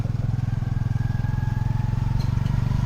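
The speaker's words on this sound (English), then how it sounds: "People do love a good tuk-tuk ride." A tuk-tuk engine drones steadily during a ride through town, a loud close rattling putter with a constant rhythmic chug and no voices.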